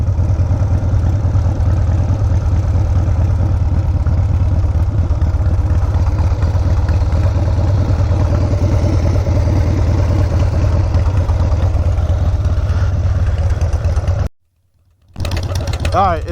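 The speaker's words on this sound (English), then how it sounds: "it's been idling fine here for a minute" An FXR motorcycle engine idles steadily up close with a fast, even mechanical clatter, running for most of the time before a sudden cut to silence near the end.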